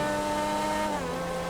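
Grotti X80 supercar in GTA 5, its engine holding a loud, steady high-revving whine with a brief downward shift in pitch near the end, with no talk.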